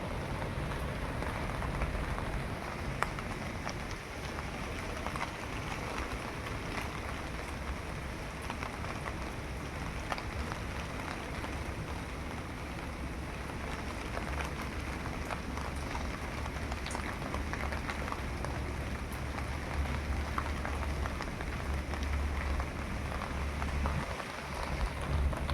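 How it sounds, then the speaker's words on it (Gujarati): Fine steady rain falling on surfaces outdoors, a dense even patter with soft low rumbling underneath, continuous throughout and with no voices. "મારે તો જો આવો વરસાદ વરહે"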